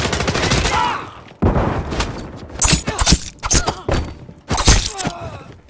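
Gunfire in the video game Call of Duty Modern Warfare 3 comes in loud, close bursts of rapid shots separated by short gaps, mixed with shouted in-game voice callouts.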